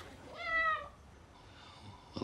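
A single drawn-out cat meow rises and falls close by in a sitcom kitchen scene, followed by quiet background noise and a brief clatter at the end.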